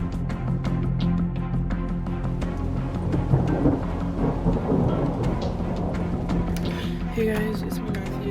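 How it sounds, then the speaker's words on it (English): Thunder rumbles and rain falls during a thunderstorm outside the back of a house, a steady loud wash of storm noise with deep low rumbling throughout, and faint speech-like sounds mixed in. "we heard some loud thunder. Oh, and it's starting to rain."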